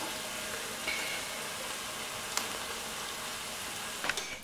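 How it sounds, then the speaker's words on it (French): Canned peeled tomatoes simmer and sizzle in a pan of frying onions, a steady soft crackling hiss with a few sharper spatters and small utensil knocks, close and alone. "je vais rajouter dedans ma boîte de tomates pelées"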